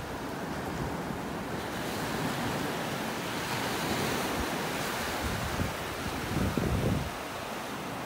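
Ocean surf on the beach at North Naples, Florida, a steady broad wash of waves with wind buffeting the microphone, continuous and fairly loud.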